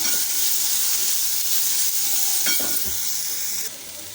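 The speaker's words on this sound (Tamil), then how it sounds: "தக்காளி பழம் நல்லா வதங்கணும் கலந்து விட்டுப்போம்" Tomatoes and green chillies sautéing in a hot pan, a loud steady sizzle and hiss with a brief scrape of stirring, no talk.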